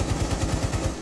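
Rapid gunfire from a video game weapon, a steady run of about nine evenly spaced loud shots with no talk.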